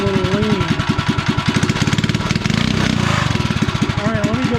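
A REO Trikeabout's small engine with an untuned carburetor, running in cold weather: a steady, rapid chugging putter close by, uneven in pitch, with a person talking over it.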